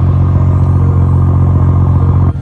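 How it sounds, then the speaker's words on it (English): Exhaust of a BMW 1 Series M-Sport coupe with manual transmission, a loud steady low rumble close by, holding an even drone before dipping briefly at the end. "The exhaust sounds really good"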